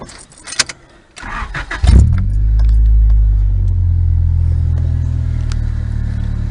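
A Honda 1.5-liter four-cylinder car engine with aftermarket exhaust cranks and starts after some brief jingling and handling noises, then settles into a loud, steady, deep idle rumble close by.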